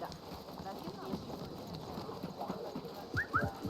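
A horse gallops in the video game Assassin's Creed Mirage, its hooves making a soft, quick clip-clop under ambient game sound while a voice talks faintly over it.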